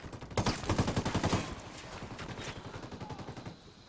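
Automatic gunfire in the open-world shooter Ghost Recon Wildlands, a loud rapid burst of close shots at first that thins into quicker, fainter rattling fire toward the end.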